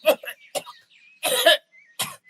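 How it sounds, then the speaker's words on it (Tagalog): A few harsh coughs in quick bursts, close by, with short pauses between them. "Oh, bakit kayo inuubo dyan?"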